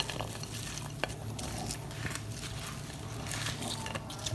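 Chickpea and potato curry with methi stirred in a pan over high heat, a soft continuous sizzle broken by scraping and a few light utensil clicks, no talking.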